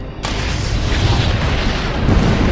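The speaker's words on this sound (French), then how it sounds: "C'était l'énorme explosion qui dévaste l'avant du char." A massive explosion wrecks the front of a tank, a loud sustained rumbling roar that bursts in almost at once and stays dense and heavy throughout.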